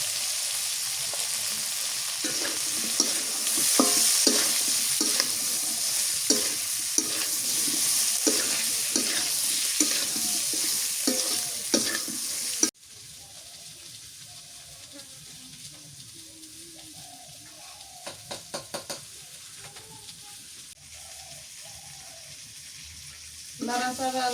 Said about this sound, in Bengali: লাড়াচাড়া করতে করতে আমার পটল ভাজি হয়ে গেছে